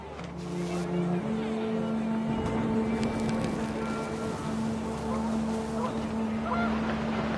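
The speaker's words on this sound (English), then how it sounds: "panicked geese appeared and quickly went" Panicked geese honk in a PS4 video game over a steady wash of wind and ambient noise, with a voice talking across the sound.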